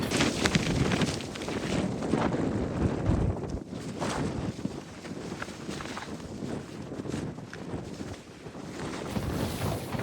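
Strong sea wind blows on the coast of a remote Hokkaido town, roaring and buffeting the microphone loudly and continuously for the whole stretch, with no voices.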